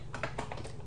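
A few quick keystrokes tapped on a Packard Bell Legend 406CD computer keyboard while a DOS command is entered, light separate clicks over a steady low hum.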